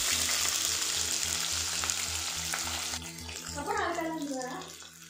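Two thin-sliced onions frying in a Dutch oven give a loud, steady sizzle, with stirring scrapes and bursts of crackle later on, over a low continuous hum.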